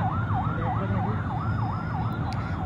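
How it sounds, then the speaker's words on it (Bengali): A fire service engine arrives at the scene of a plane crash near a metro rail depot in Dhaka, its siren wailing loudly in a steady, repeating rise-and-fall over traffic rumble. "দেখতে পাচ্ছি আমরা ডান পাশ দিয়ে ফায়ার সার্ভিসের ইউনিট চলে আসছে।"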